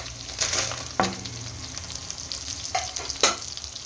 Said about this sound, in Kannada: ಇವಾಗ ಇದನ್ನೆಲ್ಲ ಒಳ್ಳೆ ಘಮ ಬರೋವರೆಗೂ ಹುರ್ಕೊಳ್ಳಿ